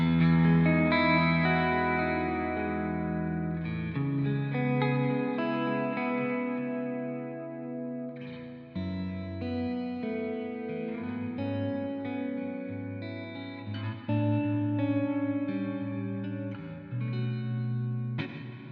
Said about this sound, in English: Let's put on the compressor.